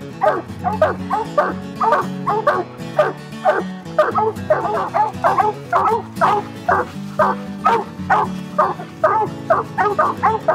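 Hunting dogs bay at a raccoon treed in the Ozark hills, a loud, close chorus of repeated barks, yips and whimpers that keeps an uneven rhythm throughout, with several dogs overlapping.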